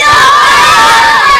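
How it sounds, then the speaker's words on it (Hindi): Children shouting and clamouring together as a loud, dense crowd, a continuous wall of high excited voices with no pauses, connected to water cut off between India and Pakistan. "बच्चे पानी के लिए चिल्ला रहे हैं"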